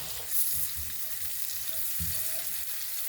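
Food sizzles gently in a pan on a home stove, a soft steady frying hiss with a few low clinks and stirring thumps, fairly quiet and without talk.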